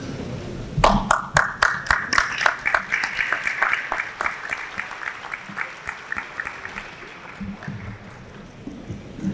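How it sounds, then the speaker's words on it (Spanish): An audience at an arbitration conference of chambers of commerce claps in a dense, close burst that slowly thins and softens over about nine seconds, with faint voices beneath. "un aplauso"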